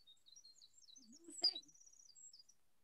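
Song sparrow song played as a recording, faint and thin, a series of high chirps and trills with a brief louder burst in the middle, and a quiet voice underneath.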